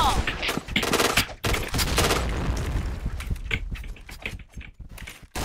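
Rapid gunfire bursts crackle in the online shooter game Point Blank, dense overlapping shots and clicks at close range with brief pauses, alone without talk.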